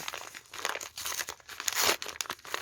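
Plastic packaging holding beads from a manufacturer, crinkling and crackling close up in irregular bursts as it is torn open, with a louder rustle near the end and no talking.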